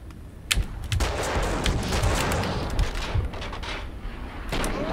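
MP5 submachine gun fire in Max Payne 2, sharp shots and short bursts crackling over a busy, continuous firefight din for several seconds.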